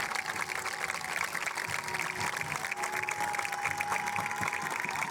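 An audience at a parade float presentation applauds in a faint, continuous wash of many hands clapping that holds steady throughout, with a thin sustained tone running beneath it.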